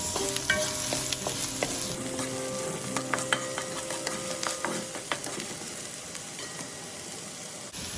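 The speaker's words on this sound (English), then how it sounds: "I'm going to add in first my diced onions, which I'll leave it to cook for about 2 minutes." Diced onions sizzling in a hot pan while a utensil stirs them, producing a dense continuous fry with frequent scraping clicks and clatter, close up and without speech.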